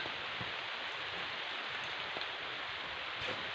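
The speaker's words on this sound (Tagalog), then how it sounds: "Umuulan dito sa amin par" Steady rain falling outdoors in a hilly area, a dense even hiss of drops pattering on surfaces with no gaps and no voices, moderately loud throughout.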